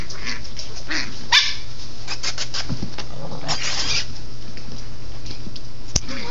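Christmas puppies barking in short, scattered yips and bursts over a steady low background hum, with a couple of sharp clicks, fairly close and with no talking.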